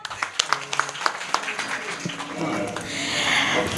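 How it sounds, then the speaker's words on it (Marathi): A kirtan audience claps for a devotional performance, a burst of applause that starts with scattered claps and swells into steady, dense clapping from a crowd at moderate distance. "टाळ्या वाजवा."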